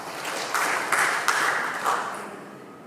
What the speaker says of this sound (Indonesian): mari sekali lagi kita berikan tepuk tangan